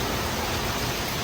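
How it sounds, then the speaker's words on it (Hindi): Heavy monsoon rain pours down during a storm in Delhi, a dense, even hiss of downpour that fills the brief moment with no voices or other sounds. "Finally it's raining and like cats and dogs."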